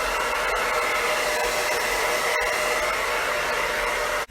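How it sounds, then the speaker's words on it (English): A hair dryer blows on hair in a steady, loud, close whoosh that holds constant throughout and cuts off abruptly at the end. "So I am going to blow dry."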